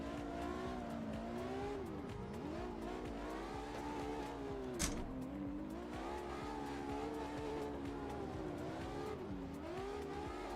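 A drift car in a racing game with its engine revving up and down in long sweeps and tires squealing continuously, one brief sharp burst in the middle and no speech.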